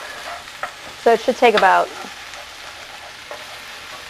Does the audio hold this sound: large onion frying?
yes